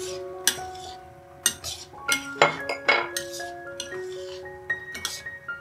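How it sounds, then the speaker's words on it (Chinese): Cherry tomatoes stir-fried in a pan for a vegetarian red pasta sauce, with a utensil clinking and scraping against the pan in irregular, close strikes. "再放入小番茄，炒一炒"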